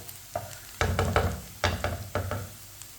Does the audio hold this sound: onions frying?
yes